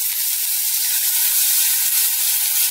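Ginger garlic paste hits hot oil with cumin, mustard seeds and curry leaves, giving a loud, steady, unbroken sizzle and hiss close by, with no talking.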